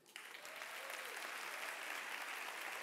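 An audience at a tech conference bursts into applause for Arturo, a dense, sustained clapping that starts abruptly and holds steady, sounding moderately distant.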